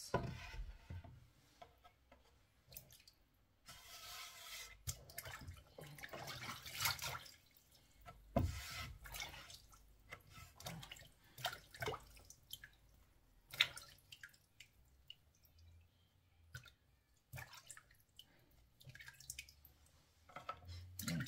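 Water running and dripping while freshly harvested tomatoes, eggplant and string beans are washed in a garden kitchen, a faint irregular patter of splashes and drips with scattered clatter and no talking.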